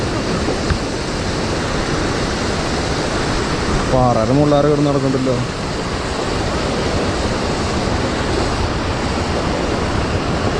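A rushing waterfall along a bamboo trek roars as a loud, steady, broadband wash of water filling the whole clip, with a person speaking briefly over it.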